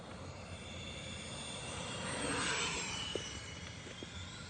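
An L-39 electric ducted fan RC jet model sweeps past in a low pass on a morning flying field, its faint whine swelling toward the middle and fading, with a couple of brief clicks near the end.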